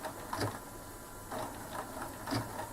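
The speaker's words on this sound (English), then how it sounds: "Again, all of this stitching is being done with the colour match thread." A sewing machine stitches with colour-matched thread in short, quiet bursts of mechanical whirring separated by pauses, close and faint, no talk.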